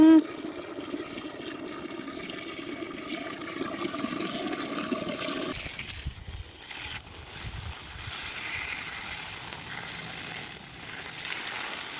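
Water running into a basin while plants are watered at home, a steady rushing pour close by that shifts in tone partway through, with occasional voices underneath.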